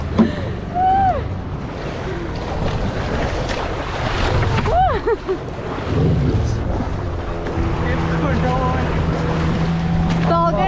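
A motorized wooden outrigger boat's motor drones steadily over wind buffeting the microphone and washing ocean waves off Africa, with brief whistling tones and a low engine hum growing steadier toward the end.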